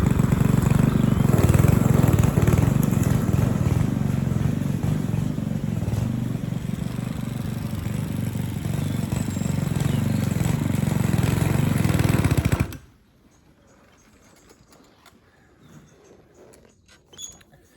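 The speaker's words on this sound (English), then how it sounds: "the reason why the lawnmower keeps on cutting out is because I've got it literally on the shortest possible setting" A lawn mower set to its shortest cutting height runs loud and close with a rough, steady drone for about twelve seconds, then abruptly cuts out into near silence.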